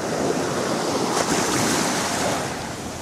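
Sea waves wash onto a beach in Antalya, Turkey, a loud continuous rushing surf with some wind noise and no voices.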